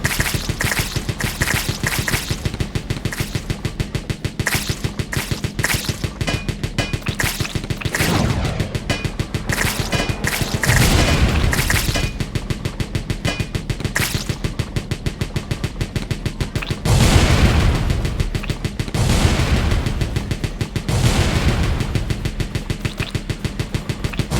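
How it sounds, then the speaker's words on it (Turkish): Rapid machine-gun-like firing in the video game Wall World, a loud relentless stream of evenly spaced shots with occasional heavier crashes and booms mixed in. "Aa ne kadar seri atmaya başladı. Bakar mısın? Makine tüfek gibi."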